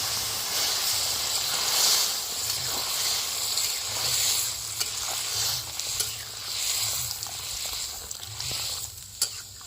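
Water poured into a hot pan of spinach and taro curry cooked with pond snails sets off a steady, close sizzling hiss with faint stirring scrapes that lasts throughout, with no voices.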